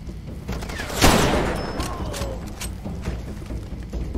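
Explosion in the video game Far Cry 2: a sharp, loud blast with a broad burst that then decays into a rumbling tail, amid continuous in-game gunfire and ambient combat noise.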